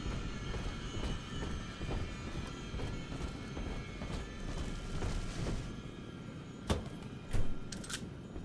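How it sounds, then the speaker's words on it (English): In the video game Bioshock 2, a train rumbles along with a steady, rhythmic clacking of wheels on track. A few sharper metallic knocks and a faint squeal come near the end. "Come out shooting and start the train."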